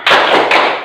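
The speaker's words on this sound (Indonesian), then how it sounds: "Kita kasih tepuk semangat." A class of students in an Indonesian school lesson giving a short rhythmic spirit clap, two loud, close, unison claps about half a second apart.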